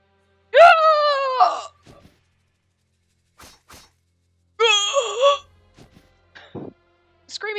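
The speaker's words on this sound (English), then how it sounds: "Screaming and the death sound effects are just a lot of fun, you know?" Anguished screams and dying groans from the Japanese video game Birushana Senki ring out in two loud drawn-out wails separated by quiet gaps and a few soft thuds.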